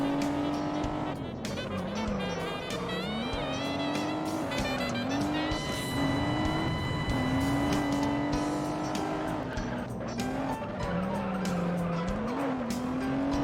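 A race car tears around a track in the racing video game Juiced, its engine droning loudly and continuously with rising and falling revs and repeated tire squeals, with no talking.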